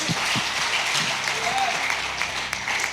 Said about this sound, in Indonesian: Ayo beri tepuk tangan dulu ayo.